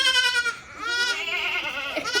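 A young goat kid bleats loudly and close by in a long, wavering, strained cry that breaks briefly and then resumes.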